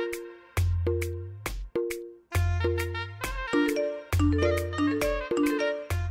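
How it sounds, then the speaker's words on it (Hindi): A rapid string of phone message notification tones from a group chat, bright chiming dings stacking and overlapping one after another, loud and close with no talking. "दिमाग खराब हो गया इन लोगों का मैसेज पे मैसेज भेजे जा रहे हैं"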